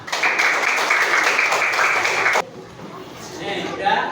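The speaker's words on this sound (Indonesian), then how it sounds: "Tepuk tangan." A classroom group applauds with dense clapping for about two seconds, which then stops abruptly, and voices talk afterward.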